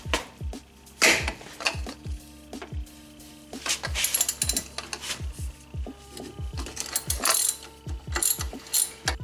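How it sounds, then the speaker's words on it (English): A ratchet wrench clicking in repeated short bursts while loosening an 18 mm nut off the lower ball joint bolt during a wheel bearing replacement, close and crisp, with metallic clinks between strokes. "All right, got the nut off of that bolt."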